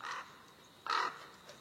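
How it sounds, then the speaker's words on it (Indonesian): Crows from a huge flock heading toward a giant tree give two loud, harsh caws, one at the start and one near the middle, with a fainter call at the end. "Ternyata itu adalah suara dari ribuan burung gagak yang sedang menuju pohon raksasa."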